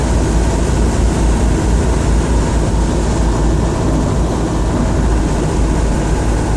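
A Land Rover Defender engine revving: a loud, steady roar with a deep low rumble that holds constant throughout, close and dense with no pauses.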